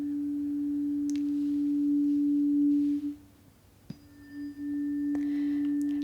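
A tuning fork rings a pure, steady tone that holds for about three seconds, fades, then is struck again and sustains alone, faint and close, with a few light taps.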